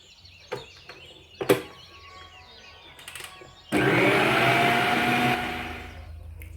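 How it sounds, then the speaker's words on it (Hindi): Blender briefly whirring to mix chocolate into an ice cream mixture, a loud motor burst of about two seconds that then winds down, after a few light clinks and taps close by. "मैंने इसको ज़्यादा नहीं ब्लेंड किया, हल्का सा बस 2-3 सेकंड के लिए मैंने इसको मिक्स किया था"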